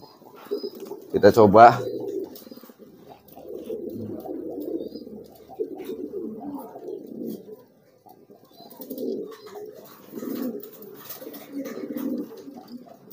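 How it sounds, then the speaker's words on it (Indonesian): A pigeon coos in short bursts at close range, with a brief loud flutter of flapping wings early on, while someone talks over much of it in a yard where songbirds are kept. "Ini ada merpati nih"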